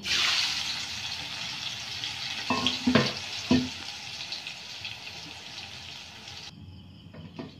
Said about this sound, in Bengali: এবার আমি এই বটবটিগুলো ভেজে নেব।